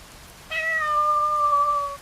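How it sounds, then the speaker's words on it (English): A single drawn-out cat meow, clear and fairly close, rising then holding a steady tone for about a second and a half over faint rain-like background noise at a campsite. "I heard something. A meow over there."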